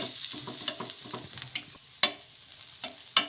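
Moong dal gunta ponganalu fry in a pan, a steady close sizzle under repeated scraping and stirring clatter, with a few sharper metallic clicks and taps standing out near the end.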